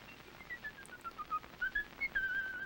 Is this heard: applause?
no